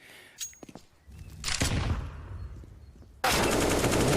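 Gunfire from the game CS:GO during a pro Vitality vs 9z match: scattered sharp shots at first, then a sustained loud burst of rapid automatic fire that cuts off briefly and resumes as a dense, steady volley.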